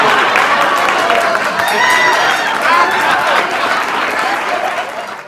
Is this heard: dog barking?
no